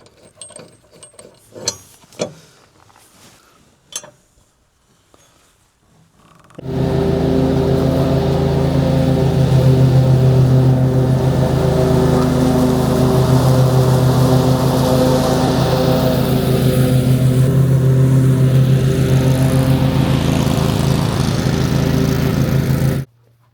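A lawn mower fitted with shredder blades cuts tall grass, starting abruptly after a few quiet clicks and handling sounds, then running as a loud, steady engine drone with whirring blades for the rest of the span.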